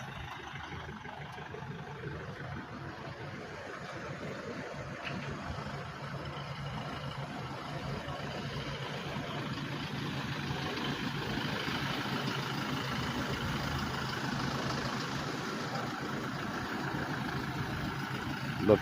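A three-level bus engine idles at an airport in a low, steady rumble that stays fairly quiet and even throughout, with a faint outdoor hum and no talking.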